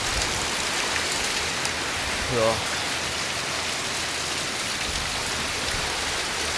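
Heavy rain pours down in a village as a dense, steady hiss. A brief voice says a word partway through.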